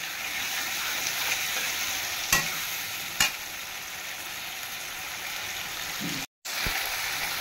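Water poured into a pan of frying spiced masala for a catla fish curry with pointed gourd and ridge gourd, giving a steady broad hiss with a couple of sharp clicks and a brief cut-off near the end; no talking.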